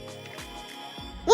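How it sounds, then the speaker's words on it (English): A vintage Kenner Utah Raptor dinosaur toy with a battery sound feature plays its scream, a short tinny electronic shriek with a couple of descending warbling cries, close and alone. "we get a really good look at this awesome Utah Raptor with screaming sound and kick slash action"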